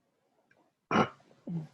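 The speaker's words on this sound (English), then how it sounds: "I burp oftentimes doing energy." A single burp, short and close, with a brief throaty sound shortly after, in an otherwise quiet room.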